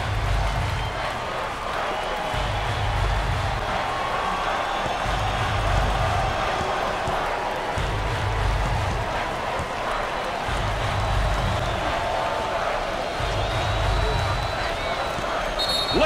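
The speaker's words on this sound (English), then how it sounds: "Listen to the crowd." An arena crowd roars in NCAA Basketball 09 during a classic 1979 Indiana State versus Michigan State game with student sections and bands, a dense steady wash of noise over regular low thumps.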